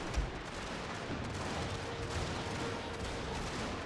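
Distant musket volleys crackle on and on in a battle of Prussian line infantry, a dense, steady patter of scattered shots rolling beneath a low battlefield din, with no single report standing out.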